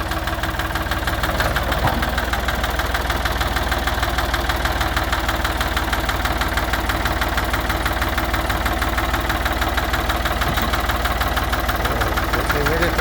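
A John Deere 440 crawler tractor engine idles steadily nearby with a continuous knocking rumble throughout, and a voice speaks faintly underneath.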